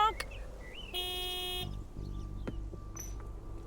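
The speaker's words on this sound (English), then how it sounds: "Honk honk!" A truck horn honking in a holiday-themed video game, a sustained tonal blast in the middle of the clip among other brief game sounds and low background rumble.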